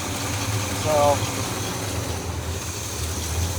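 Chevy square body truck engine idling slow, a steady low rumble close by, with a voice speaking briefly over it.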